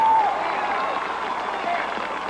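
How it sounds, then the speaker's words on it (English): Portage Central fans cheer at a high school football game, giving a steady, fairly loud crowd roar with scattered applause in a stadium, while a commentator speaks over it. "the Portage Central fans are cheering"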